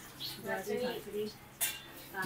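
Dinner plates are set out for a meal at home, and dishes and cutlery clink lightly a few times while someone talks over them, with one sharper clink near the end.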